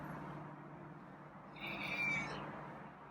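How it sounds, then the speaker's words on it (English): A single faint, drawn-out meow from a feral cat rising over a quiet room hum, fairly distant and alone without speech. "He's meowing now, though."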